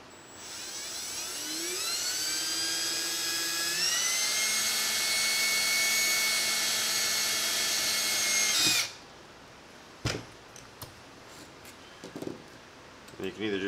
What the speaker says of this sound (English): Okay, so now we're going to make the hole in the back for our power cord.